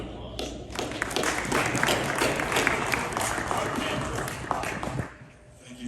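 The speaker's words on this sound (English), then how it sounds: "Let's give them all a big round of applause." Audience applause for panelists at an energy and mobility panel discussion, a dense patter of clapping that stops abruptly near the end.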